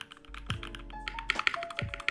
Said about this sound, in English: I absolutely love the sound of this keyboard